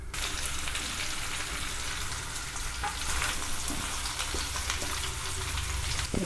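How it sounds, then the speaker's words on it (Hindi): Potato pieces frying in hot oil over a medium flame for potato pickle, a steady, even sizzle and crackle filling the whole stretch without a break, fairly soft and close, with no voices. "इसमें हम जो आलू काट कर रखे थे वो डालकर फ्राई कर लेंगे"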